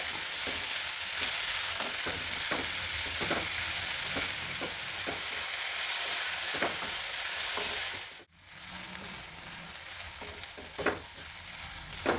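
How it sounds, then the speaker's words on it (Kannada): Capsicum and mixed vegetables stir-frying in a pan on a home stove: a steady crackling sizzle, close and continuous, with repeated scraping clicks of a spatula stirring and a brief dropout near the end. "ಸ್ವಲ್ಪ ಹುರಿಯೋಣ ತುಂಬ ಬೇಯಿಸೋದೇನು ಬೇಡ ಪೂರ್ತಿ ಬೇಯಿಸೋದು ಬೇಡ"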